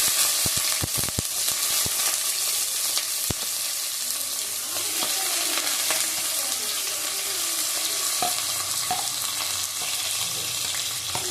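Chopped onion dropped into hot oil with cloves and cardamom for a chicken curry, a strong continuous sizzle with a few sharp clacks of a utensil at the start and the frying steady throughout.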